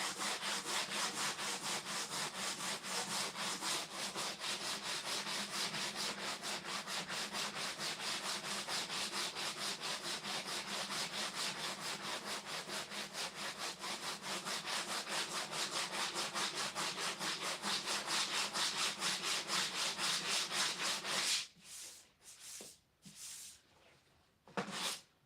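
Steady back-and-forth rasping of sandpaper on a sanding block over primer on a Nissan S13 race car dashboard continues for about twenty seconds, then a few short strokes and pauses follow.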